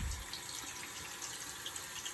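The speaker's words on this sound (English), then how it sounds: "Now we're going to rinse the film for 10 minutes" Steady running water from a tap rinses black and white film during home darkroom processing, a continuous, even wash that fills the whole clip with no talking.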